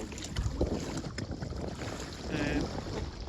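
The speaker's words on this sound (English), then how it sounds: "Nice gentle breeze though, probably about 7 or 8 knots." Steady wind rush and water wash while a sailboat reaches along in a gentle breeze of about 7 or 8 knots, the sail set well and the hull cutting the waves at an angle; a continuous close breezy roar with no talk.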